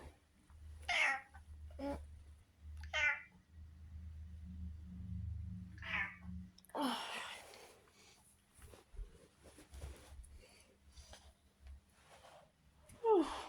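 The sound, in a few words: cat meowing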